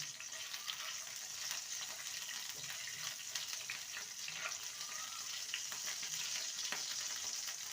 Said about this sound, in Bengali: আমি ড্রাই ফ্রুটস নিয়েছি কাজু নিয়েছি প্রথমে কাজুটাকে ভেজে নেব